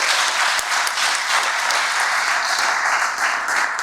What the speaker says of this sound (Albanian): një duartrokitje